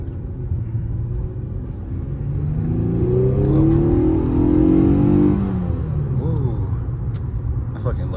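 An Infiniti G37S sports car accelerates on the road, its engine rising in a deep, close revving rumble that swells through the middle before easing, heard from inside the car with a voice briefly exclaiming.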